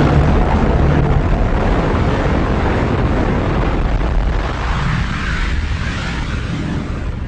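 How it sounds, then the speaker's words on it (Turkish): A Big Bang explosion sound effect rolls out as a loud, deep, sustained roar. It rumbles on continuously for several seconds, slowly easing off with no voices present. "Bilim adamları bu patlamaya İngilizce Big Bang, yani büyük patlama ismini vermişlerdir."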